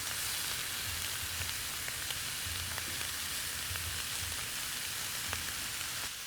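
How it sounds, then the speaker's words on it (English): Cut-up sausage sears on a flat griddle for gumbo, giving a steady, close, crackling sizzle with faint pops throughout and no voices. "We're gonna sear all of our sausage that we cut up on the flat skittle before we put it in the gumbo."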